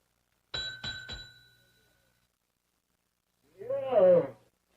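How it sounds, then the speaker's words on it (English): A service bell struck three quick times with bright ringing tones, followed by a brief burst of voices after a pause. "Give that bell a whomp, Ellie."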